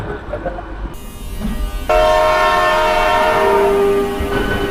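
A local train's horn blares long and loud as it departs Kalipahari station platform three, over rumbling rail noise and engine hum, holding steady for several seconds.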